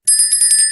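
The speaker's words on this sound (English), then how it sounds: "got some bells ringing" Bright electronic bell alert rings on a trading platform, a loud, rapid repeating chime pattern of high metallic tones, close and alone for under a second.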